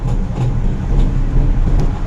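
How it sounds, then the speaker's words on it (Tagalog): Steady low rumble of an LRT train at San Dionisio station, with faint rhythmic clacks, heard up close without any talking. "Ayan pong San Dionisio LRT station."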